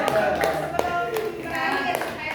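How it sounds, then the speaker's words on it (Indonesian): A group claps hands in an Indonesian counting clap game, with a few irregular claps mixed with voices speaking or chanting along. "kita boleh tepuk-tepuk"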